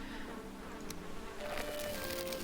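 Buzzing of bees in the Viking survival game Valheim, a steady insect drone close by, lasting a couple of seconds with no talking over it.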